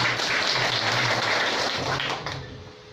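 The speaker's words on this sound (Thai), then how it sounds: "ปรบมือให้ตองหน่อยครับ" A seated audience at a village agricultural project meeting claps for an incoming presenter, a fairly quiet, even patter of applause that fades out near the end.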